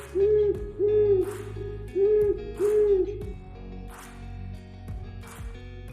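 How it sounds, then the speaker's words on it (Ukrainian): Four soft, hollow owl hoots in two pairs, fairly close and clear, followed by quieter background rustles. "Сова ухкає."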